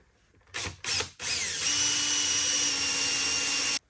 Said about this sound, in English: now I'm going to do a little pre-drill and put some screws around the perimeter